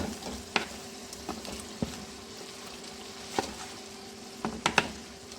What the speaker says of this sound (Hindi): अब मैं इसके अंदर जो मैरिनेट किया हुआ कीमा था वो ऐड कर रही हूँ